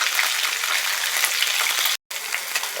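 Halibut sears in a hot pan with a loud, dense, crackling sizzle that runs continuously up close, broken by a brief silent cut.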